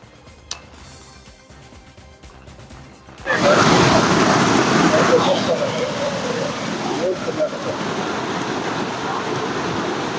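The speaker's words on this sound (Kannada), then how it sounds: "ಭದ್ರಾ ನದಿ ಹೆಬ್ಬಾಳೆ ಸೇತುವೆ ಮೇಲೆ 3 ಅಡಿ ಹರಿತಾ ಇದೆ." Bhadra River floodwater pouring about three feet deep over the Hebbale bridge during heavy monsoon rain: a quieter stretch gives way to a sudden, loud, steady broadband roar of rushing water that holds for the rest of the clip.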